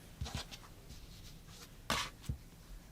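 Rotary or blade cut through quilting fabric along a ruler at the quarter-inch mark during sewing prep, heard as a few soft, brief scraping strokes close by with a sharper swipe near the end, no talking.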